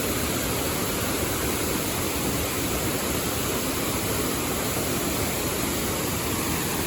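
Broad, constant roar of a large Brazilian waterfall heard close by, a loud, unbroken wash of falling water with no talking.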